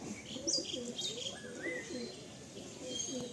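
Pigeons in a full loft fill the air with soft throaty coos and scattered higher chirps, a steady close murmur of many birds without pause.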